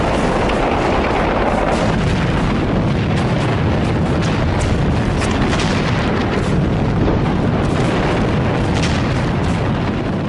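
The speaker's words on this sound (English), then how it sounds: "Then a hurricane of Japanese fire swept over them." WW2 battle din of Japanese gunfire and artillery fire, a dense continuous roar of overlapping blasts and rumbling booms, loud and unbroken throughout.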